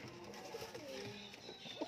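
Domestic pigeons of a Punjabi fancy breed, kept in a loft in Amritsar, give soft throaty coos close by, a few rolling calls over a faint background murmur.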